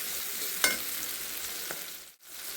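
Onions sizzle steadily in a pan, a constant close frying hiss with a brief utensil scrape and a short dip near the end. No talking.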